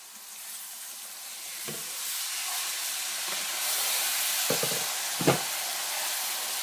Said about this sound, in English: So it's been frying up for a few seconds